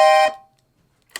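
A FisItalia 34.44-TC black piano accordion sounds a single bright reedy note on its violin register, held briefly and loud, then cut off into silence before a voice begins.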